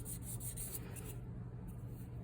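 Metal jewelry is sanded back and forth over a scratch, a faint, rhythmic close rubbing rasp with no voices.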